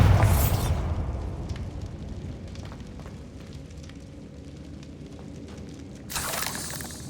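A Bombarda blasting spell in the Hogwarts Legacy game goes off with a loud explosive boom that decays into a rumbling tail with scattered crackles, followed by a second burst near the end.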